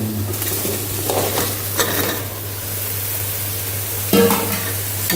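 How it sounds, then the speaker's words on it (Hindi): Chopped bottle gourd sizzling in a hot pan while being stirred, soft frying hiss with scraping utensil strokes and a brief clink near the end, no talking. "अब मैं इसमें सब्जी डालने लगी हूँ।"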